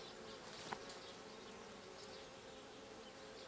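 Honeybees buzz steadily and softly throughout a beehive inspection, a continuous low drone with a single close bee passing briefly near the start.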